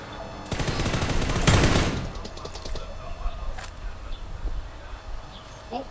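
Gunfire in the mobile game PUBG New State, a rapid close burst of automatic shots followed by a few scattered distant pops, with players talking over it.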